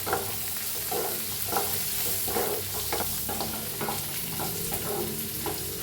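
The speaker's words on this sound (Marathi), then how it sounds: "अर्धी चमचे हळद च्या धन्या पावडर आता याला मिक्स करून घेऊया" Tomato and peas being stirred with turmeric and coriander powder in a hot pan for masala dosa filling, giving a steady sizzle broken by repeated rhythmic scraping strokes close by.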